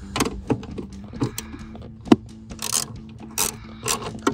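A ratchet tightens a retaining bolt into a nylon clip on a 1994-1998 Mustang GT, close quick clicking of the pawl in short bursts with light metallic knocks between them.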